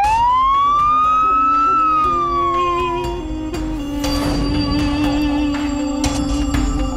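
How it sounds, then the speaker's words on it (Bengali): A police siren wails loudly nearby, one long rising-and-falling tone, then shifts into a steadier pitched whine with traffic rumble underneath; no speech. "পুলিশের সাইরেনের আওয়াজ শুনে"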